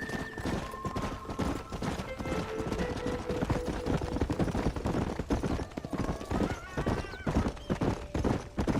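Horse hooves pound rapidly in a continuous galloping clip-clop in the Western video game Red Dead Redemption, loud and close, with an occasional whinny in a busy mix.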